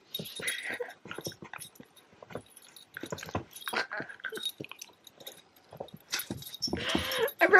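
A small puppy fusses with soft whimpers, yips and little growly noises in short bursts, close and quiet, with a few scuffling and jangling sounds.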